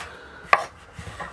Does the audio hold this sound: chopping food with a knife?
yes